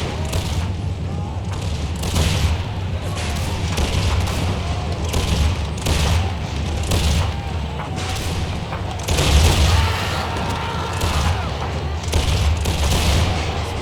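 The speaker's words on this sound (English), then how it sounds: "Let's see if the lifeguards here will fire a volley, then charge." Muskets fired by lifeguard infantry in Empire: Total War, a continuous crackling fusillade with booming reports and heavy battle noise throughout, loud and dense, with occasional voices mixed in.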